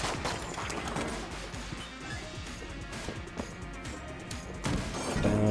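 Rapid bursts of gunfire and impact crashes from the dungeon-crawler shooter game Enter the Gungeon, dense and continuous, layered over game music with a louder swell near the end.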